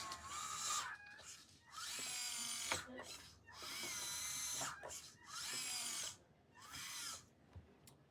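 Servo whine from a Huina 583 RC excavator raising its main boom to the limit: several whirring bursts of about a second each, close and fairly loud, with brief pauses between them.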